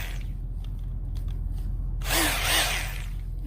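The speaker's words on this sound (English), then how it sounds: "So I'm going to drill down into the soil to try to get to the root system of these plants." A drill grinds briefly into dense clay soil in a garden, a rough burst of about a second and a half after a low steady hum.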